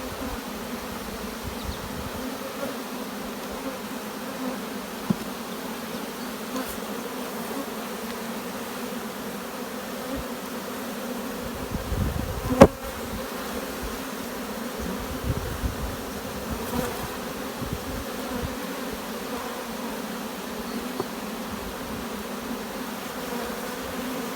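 Honey bees buzz around an open hive colony during swarm season, a steady close drone with soft knocks and bumps from hive handling, and no talking.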